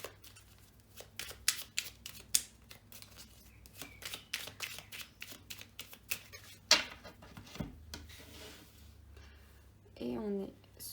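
A deck of oracle cards riffled and shuffled by hand gives quick, close flutters and slaps in a busy run of bursts, then a longer pause and a brief sound at the end.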